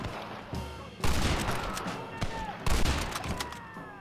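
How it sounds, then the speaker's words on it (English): Gunfire in the video game Red Dead Redemption with a rolling block rifle, several sharp loud shots with echoing tails over a busy battle backdrop. "Rolling block rifle. Dude, fire the gun."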